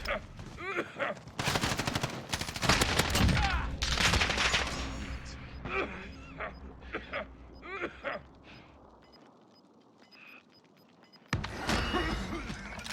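Gunfire in the Warzone solos battle royale game cracks out in rapid bursts and single shots, loud and close, with a quieter stretch before a final volley.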